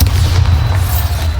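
Bombarda blasting spell in the video game Hogwarts Legacy, a loud, deep booming explosion rumbling steadily for over a second, with no talking over it.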